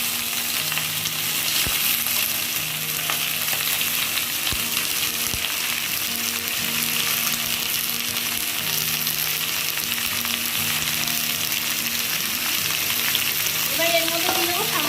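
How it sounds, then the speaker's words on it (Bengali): Pieces of green jackfruit fry in hot oil with a steady, loud, hissing sizzle, and occasional stirring clinks and scrapes sound close by. "এবারে এঁচোড়গুলোকে তেলে দিয়ে ভালোভাবে একটু ভাজা ভাজা করে নেব।"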